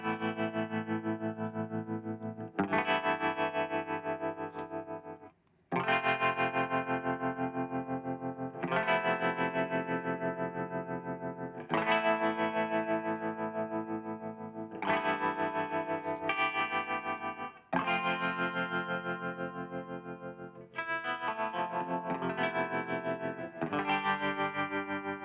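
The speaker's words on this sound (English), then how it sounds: "that sounds nice now, a bit of reverb." Sustained chords in a multitrack mix with reverb and chorus effects change every few seconds, each bright, distorted block fading into a wash of reverb with no voice over it.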